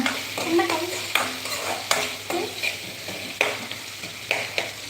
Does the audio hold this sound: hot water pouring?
no